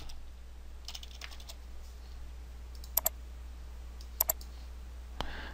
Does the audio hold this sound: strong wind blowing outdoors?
no